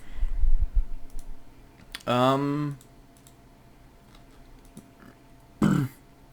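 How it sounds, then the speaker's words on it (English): A person lets out one long, loud burp while playing a video game, preceded by some clicking and followed after a pause by a second shorter burp. "Oh god, now I'm burping."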